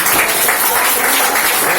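Audience at a network marketing business seminar clapping hands loudly, a dense, sustained burst of applause filling the room throughout.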